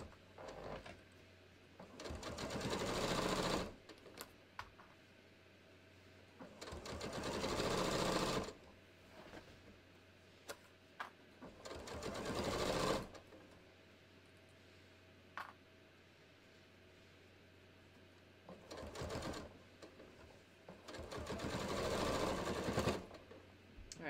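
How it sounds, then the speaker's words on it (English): A sewing machine stitches a seam on a sleeveless shirt set to a long stitch length, running in four loud bursts of a few seconds each, with quiet pauses between the runs and no talking. "so let's just sew this"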